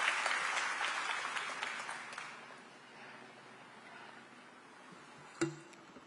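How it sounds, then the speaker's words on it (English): Applause from a crowd at LA City Hall, for Olympic athletes at an Olympic flag installation, fades out over a few seconds, followed by a single sharp click near the end. "I want to give you a big round of applause for these athletes"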